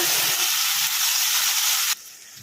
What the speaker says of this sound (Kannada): ಈಗ ಟೊಮೆಟೊ ಪ್ಯೂರಿ ಹಸಿ ವಾಸನೆ ಹೋಗೋವರೆಗೂ ಫ್ರೈ ಮಾಡ್ಕೊಂಬಿಡೋಣ